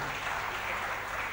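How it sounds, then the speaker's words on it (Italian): Applause from a crowd for Umberto Orefice, an old paranza leader from Barra, a brief, dense and steady wash of clapping with no voices heard. "facciamogli un applauso"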